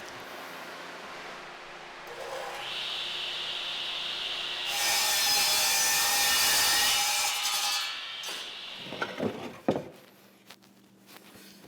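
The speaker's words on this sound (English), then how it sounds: "he comes to the woodworking shop at the ranger station to make trail signs" Hand sawing of wood in a ranger station woodworking shop while making trail signs: steady rasping saw strokes build to a loud, bright stretch, then give way to a few knocks and scrapes, close and with no talk.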